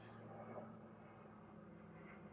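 An airplane passes overhead as a low, steady, distant rumble with a faint hum, quiet and continuous throughout, with no voices.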